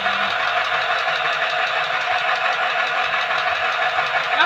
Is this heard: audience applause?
no